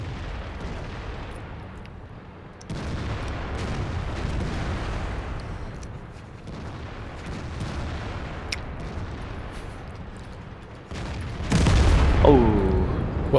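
Artillery shells hitting tanks in the World of Tanks video game, heard as heavy booming impacts over a continuous low rumble of battle, with a loud blast near the end.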